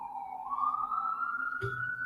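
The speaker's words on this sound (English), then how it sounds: "It's not a show without fucking sirens outside Danny's house" A police siren wails outside, its tone rising and sliding steadily, with a short dull thump near the end.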